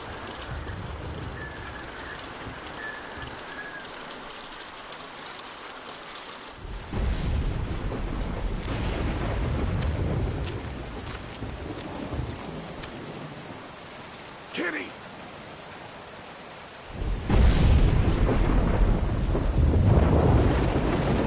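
Heavy rain in The Walking Dead video game, a loud hissing downpour with gusty bursts that swell and drop in intensity across the scene, including a brief sharp crack midway; no rumbling thunder stands out.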